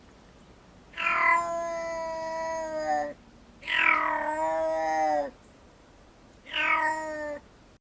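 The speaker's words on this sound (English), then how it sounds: "This is the smallest and most deadly cat, the African black-footed cat." An African black-footed cat gives three drawn-out, wavering meows, each lasting about two seconds with short pauses between, loud and close with no other sounds.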